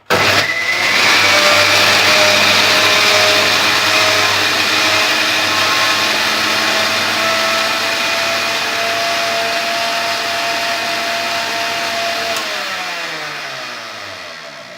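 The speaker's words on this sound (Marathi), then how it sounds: "ही लसूण आणि मिरची आपण सर्वप्रथम मिक्सरमध्ये बारीक करून घेऊ।" A kitchen mixer grinder pulverises garlic and green chillies with a little water. Its loud, steady motor whirs continuously for about twelve seconds, then winds down as the blades slow to a stop.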